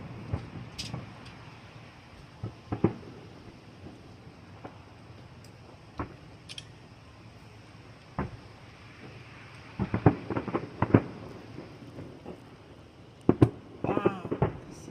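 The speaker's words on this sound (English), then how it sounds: "Скажи ему, что салют." Fireworks burst in the distance, scattered thumps and crackles spread over the night with a cluster of pops near the end, while people talk quietly nearby.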